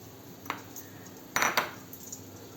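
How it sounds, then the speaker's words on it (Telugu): A metal lid set onto a pot of okra curry: a light clink, then a louder double clatter of metal on metal, close and sharp against quiet background. "ఒక 2 minutes మనం మూత పెట్టేసుకుందాం"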